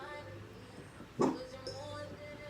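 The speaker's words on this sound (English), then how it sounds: "that's my dog barking." A single short bark from a dog indoors, fairly quiet against a low room hum and faint background sound.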